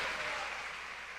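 A church congregation applauds during a worship service, a faint, steady wash of distant clapping that holds evenly for about a second.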